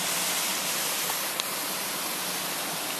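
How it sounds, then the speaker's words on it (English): A waterfall, partly melted, roars as a steady broadband rush of falling water, constant and fairly loud throughout with no talking. "Waterfall."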